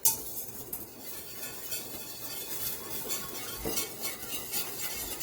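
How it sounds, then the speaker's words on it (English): Heavy whipping cream whisked into oily browned shallots in a pan, a steady close scraping and clinking of the whisk with a light sizzle underneath. "you want to whisk it to make sure you get it mixed in with all the fabulously oily shallots"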